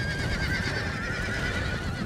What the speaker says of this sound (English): Oh god, you can hear all the horses,